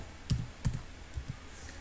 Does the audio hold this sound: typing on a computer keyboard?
yes